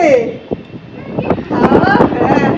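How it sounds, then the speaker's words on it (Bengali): Strong storm wind gusts steadily outdoors, a broad rushing roar that swells and buffets the microphone while a voice talks over it. "হাওয়া দিচ্ছে"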